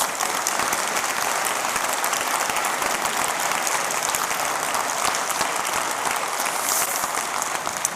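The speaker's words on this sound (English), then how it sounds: "A big round of applause for the Synapse Collective." An audience gives a big round of applause after a four-dancer performance at a university anniversary ceremony in Tilburg, a dense, steady wash of clapping that holds at full strength throughout.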